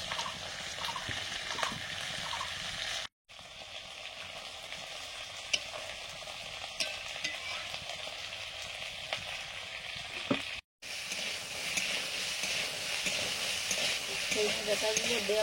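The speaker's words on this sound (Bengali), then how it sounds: "ডাঁটাগুলো দেওয়ার পর কিছু সময় ভেজেছি।" Drumstick stems frying in a pan, a steady close sizzle and crackle with faint stirring scrapes, continuous apart from two brief cut-outs.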